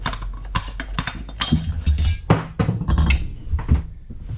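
A series of sharp, hard knocks at an uneven pace, fairly close, as a hammer strikes through a wooden block on Weber DCOE carburettor parts, with a few heavier blows ringing out among lighter taps.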